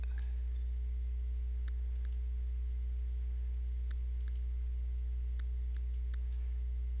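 Computer mouse clicks sound in a quiet room over a constant low electrical hum, a few sharp isolated taps followed by small clusters of quick clicks, faint and close.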